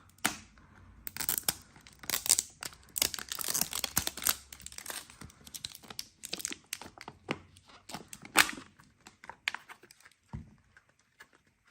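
A crinkly Danone Süprix packet is torn open and handled up close, with sharp tearing rips and irregular crumpling crackles that fade to a few soft rustles.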